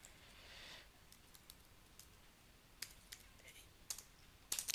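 Computer keyboard typing while C code is written: scattered soft key clicks and a few quick bursts of taps, faint and close, with low room noise.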